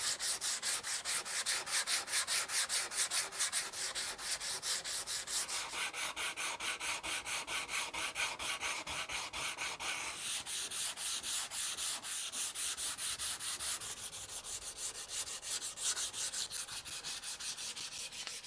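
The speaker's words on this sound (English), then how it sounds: "So a little bit of sanding here to round that over, blend it in." Steady, rhythmic rasping of hand sanding on a wooden bass guitar body, rounding over an edge, back-and-forth strokes continuing without pause, close and fairly loud.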